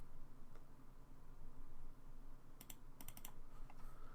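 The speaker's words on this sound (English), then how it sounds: "I apologise for the clicking as well." Sharp computer mouse clicks come in a short cluster of about five, close to the microphone over a quiet steady background hiss, as a straight-line drawing tool is used in a maths lesson.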